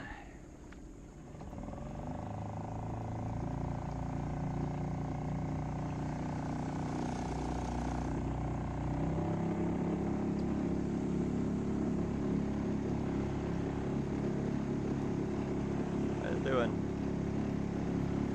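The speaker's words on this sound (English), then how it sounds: "I can't run wide open because I don't have the motor broke in yet. It's about half throttle." A Twintroller X10 boat motor, fitted with an extension handle, runs steadily at about half throttle on a river, a continuous droning hum throughout with a voice talking over it.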